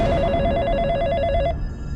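Loud, steady electronic trilling of a household telephone ring repeats for about a second and a half before stopping, leaving low background hum, in a Bhojpuri drama scene.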